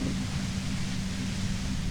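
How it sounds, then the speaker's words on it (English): Loud, steady broadband hiss of white noise near a compressor in the video game Disco Elysium, continuous and overwhelming throughout with a low rumbling undertone. "The violent white noise becomes even more overwhelming closer to the compressor."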